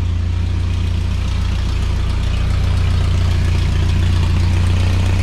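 A mini truck engine idles steadily with an exhaust leak, a close, loud, even low rumble with a ticking, puffing pulse running through it, heard alone without voices.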